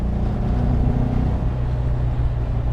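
A 1958 Porsche 356A Speedster with a Weber carburetor conversion drives along a winding road, its engine droning steadily and close with a shift in pitch partway through.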